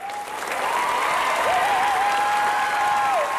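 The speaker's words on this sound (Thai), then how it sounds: "ขอเสียงปรบมือต้อนรับ น้องพลูค่ะ" A studio audience at a televised talent show applauds steadily as a young contestant is welcomed on stage, a dense, even wash of clapping with a tonal musical line running underneath.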